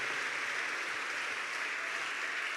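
Steady applause from a church congregation, a dense even wash of clapping that holds without a break.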